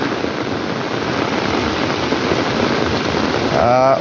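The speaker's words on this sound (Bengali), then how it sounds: "কি পরিমাণে বৃষ্টি, মুষলধারে বৃষ্টি হইতেছে আর কি চারদিকে।" Torrential rain pouring down all around outdoors makes a dense, unbroken roaring hiss that stays loud throughout, and a voice starts just at the end.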